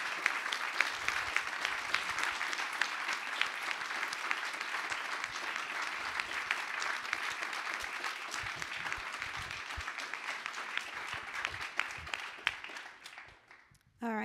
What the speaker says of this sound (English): So can we just give them another round of applause for coming?